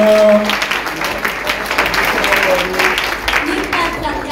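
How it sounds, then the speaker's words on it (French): Applause from a congregation at a children's Christmas Eve 2023 service, a dense steady clapping wash filling the room for several seconds at moderate loudness, with some voices mixed in. "Acclamons très très fort le Seigneur."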